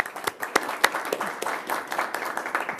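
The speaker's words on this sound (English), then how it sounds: "why don't we give Debbie a round of applause?" At a county Board of Health meeting, a small group gives a round of applause, with sparse, uneven claps close by and a few sharp louder hits across a few seconds.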